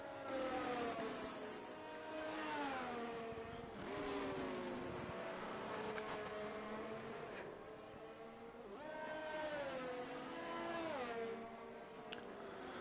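Race cars in a Formula-style racing video game at the Netherlands track, several engines whining and shifting pitch as they accelerate and pass, loud and continuous throughout.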